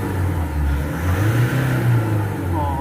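A Nissan NV350 van engine with low power, overheating and throttle delay revs steadily, a close, continuous droning hum holding a fairly even pitch with slight rises.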